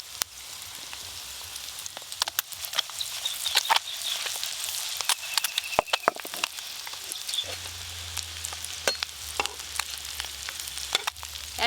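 Eggs frying in oil in a pan for an egg curry, steady close sizzle and crackle with occasional scraping clicks of a spatula as they are stirred, no talk.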